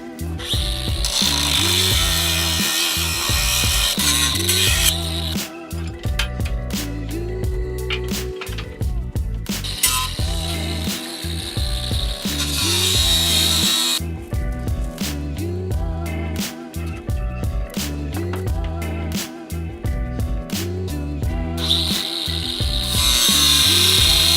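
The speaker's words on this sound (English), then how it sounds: "Glasses, mask, earplugs, angle grinder, chop," An angle grinder with a cut-off blade cuts knife-making steel in repeated loud bursts, the motor whine rising and dropping as each cut starts and ends, with brief pauses between passes.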